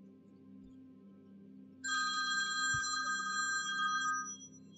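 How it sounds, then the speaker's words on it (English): An incoming-call ringtone chimes on a phone, a bright, steady tonal ring starting suddenly after quiet game background hum and sustaining for a couple of seconds before stopping. "Someone's ringing me."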